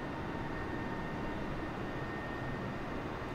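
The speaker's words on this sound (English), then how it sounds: "Backing off the throttle ever so slowly." A steady, even aircraft engine drone from a plane in Microsoft Flight Simulator 2020, throttled down and held at a low, smooth roar throughout with no talking.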